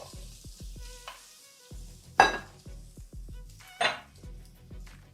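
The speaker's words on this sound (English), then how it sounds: "So nice and hot pan, you hear that sizzling already." Rhythmic thumps and a hissing sizzle from king crab claws in a hot pan, with two louder bursts of spitting as food hits the heat, close by.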